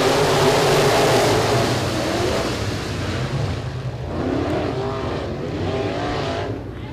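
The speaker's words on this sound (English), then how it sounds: "We're underway with our heat races." Pro mod race cars at a speedway get underway in a heat race, engines roaring loudly at the start and then receding into a continuous, fluctuating drone as the pack moves off.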